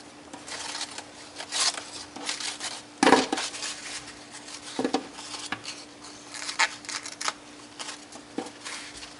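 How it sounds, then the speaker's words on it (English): Scissors snip through crepe paper streamer strips, a series of short crisp cuts and rustles at close range with quiet gaps between them. "So I just take small strips like this and I cut them."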